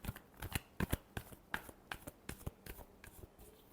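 Tarot cards shuffled by hand at close range, a quick series of crisp papery snaps and riffles arriving in uneven bursts, with no talking.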